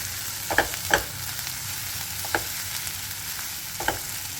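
Onion sautéing in a pan for an aubergine bharit, a soft steady sizzle with a few brisk stirring scrapes of a spoon, close and fairly quiet.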